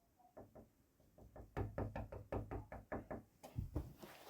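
Knocking on a wall between neighbours, a close series of dull thuds that begins sparse, then speeds into a steady rapid run of about a dozen raps before a few heavier final blows.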